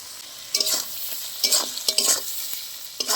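Tomatoes frying with onions, salt and turmeric in a pan for a sarputi fish curry, a steady close sizzle broken by several scraping stirs of a spatula.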